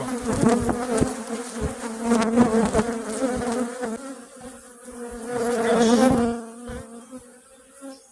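Honeybees swarm around an opened beehive during beekeeping, a loud, dense, continuous buzz that swells and fades as the insects fly close, heard alone.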